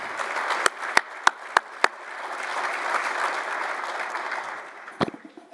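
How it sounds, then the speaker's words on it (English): Crowd applause at an athletics Wall of Fame ceremony, opening with a few loud, spaced individual claps before swelling into a fuller, moderate round of clapping that fades, with a couple of final sharp claps. "Let's give them a round of applause."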